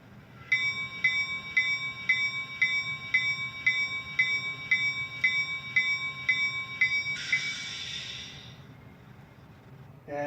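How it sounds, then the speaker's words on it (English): Bell from the sound system of an Atlas genset model locomotive, ringing in a steady, even rhythm of about a dozen clear metallic strokes, then ending in a brief hissy burst, with no talk. "Here's the bell."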